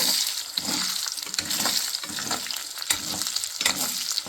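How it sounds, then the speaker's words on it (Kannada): Beaten egg fries in a pan for egg rice, stirred continuously, giving a close, steady sizzle broken by repeated scraping strokes of a spatula, with no talking. "ಮೊಟ್ಟೆ ಹಾಕಿ ಆಗಿದೆ ನೋಡಿ, ಆಡಿಸ್ಕೊಳ್ಳೋಣ"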